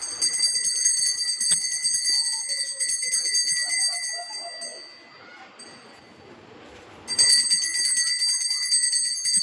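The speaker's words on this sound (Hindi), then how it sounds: "तब घंटी मस्त बजा के पूजा वजा करता चलिए" A small brass bell rings loud and continuous during a home puja, its bright metallic tone ringing out, dropping away midway while a soft voice and faint clatter are heard, then ringing again strongly.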